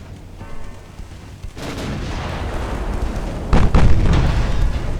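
Heavy 8-inch naval gun blasts boom repeatedly in Ultimate Admiral Dreadnoughts, with loud rumbling reports and one especially strong burst near the end, no voices.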